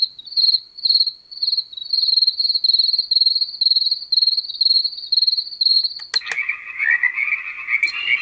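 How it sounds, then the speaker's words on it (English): A continuous high-pitched pulsing cricket chirp from an AuCuTee S5 white noise machine, loud and close, switching near the end to a lower, raspier croaking tone. "Crickets."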